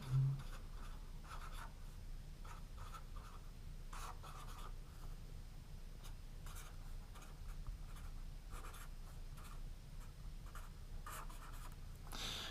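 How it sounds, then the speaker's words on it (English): Handwriting on paper or a board while working out trigonometric sum and difference terms, a steady run of soft scratchy pen strokes with short pauses, fairly quiet and with no talking. "I'm just going to write these down here"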